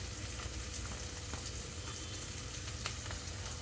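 Onions and green chillies with curry leaves frying on a low flame for millet rava upma, a faint, steady sizzle with a few soft stirring ticks, quiet and close, no talking.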